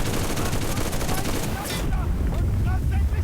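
Machine gun fire rattles in the Enlisted battlefield, dense crackling bursts over a low rumble, then easing into scattered distant shots with whistling effects.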